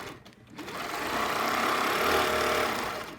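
A sewing machine hums continuously and fairly quietly while stitching down a quilt border, with a soft mechanical whir throughout.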